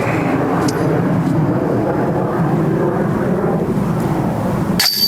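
Jet aircraft passing overhead above a disc golf course beside a road, a steady broad roar lasting throughout with a sharp knock near the end; no one speaks.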